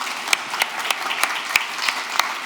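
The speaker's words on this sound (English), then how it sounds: "Perhaps we can give Carl and Andy a massive round of applause" A live conference audience applauds on a sofa-set stage, a steady wash of clapping with a few louder individual claps standing out, moderately distant.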